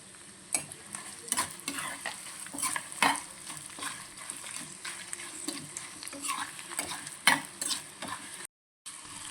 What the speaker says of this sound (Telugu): మంచిగా తాలింపు వేగిపోయిందండి